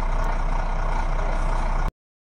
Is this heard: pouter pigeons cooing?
no